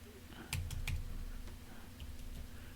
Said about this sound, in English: My keyboard's a little sticky or something.